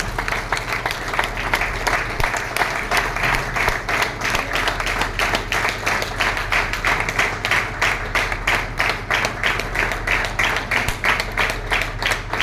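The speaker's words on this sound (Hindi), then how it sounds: "तालियों की गूंज साथ में बनी रहे" A crowd at an ashram claps steadily to welcome the Sikkim governor, sustained loud applause running throughout with a faint hum underneath.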